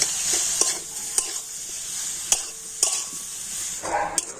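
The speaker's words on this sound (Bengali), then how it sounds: "এইভাবে নাড়াচাড়া করে তো খুব সুন্দর একটা পুর তৈরি করে নেব" A coconut and jaggery filling being stirred in a pan, with a soft steady sizzle broken by sharp spoon clinks and scrapes against the metal, close up with no voices.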